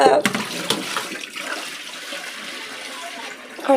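Rice being washed by hand in water for sweet pongal, a continuous close sloshing and swishing of water and grains with a few sharper splashes at the start and end, under light speech.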